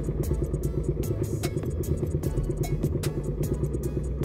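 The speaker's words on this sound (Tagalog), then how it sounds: "naka-arangkada yung tunog ng ating motor na medyo mataas." A motorcycle engine fitted with a Koso 30mm carburetor idles close by at a fairly high speed during carburetor tuning, a steady rapid putter with regular clattering ticks.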